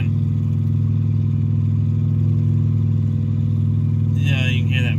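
A new irrigation motor engine runs with a loud, steady low drone that holds nearly constant throughout, and a person speaks briefly near the end.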